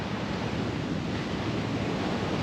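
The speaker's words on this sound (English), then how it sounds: "hearing the sound of the waves" Sea waves wash steadily against the shore at a park in Singapore, a continuous broadband surf roar with some wind buffeting the microphone, close and fairly loud, with no voices.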